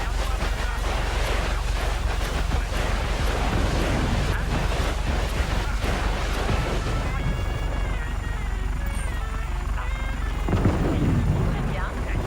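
Helicopter armed with missiles in Just Cause 3, a loud continuous rotor roar with rumbling blasts layered throughout, dense and close.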